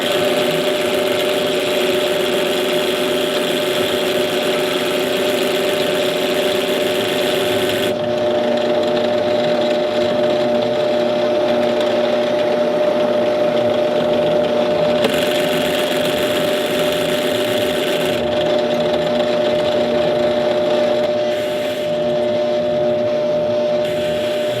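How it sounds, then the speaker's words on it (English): A power drill bores tuner holes into a wooden guitar headstock, whirring steadily and loudly at close range for the whole stretch, with its pitch shifting slightly as the bit bites into the wood. "So we've got our holes all drilled."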